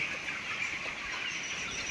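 A flock of broiler chickens in a poultry farm shed clucking and murmuring together in a steady, continuous chorus with no talking.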